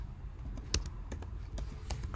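Fingers type on a computer keyboard in a quiet room, a short run of soft key taps with one sharper press, close and alone over low background hum.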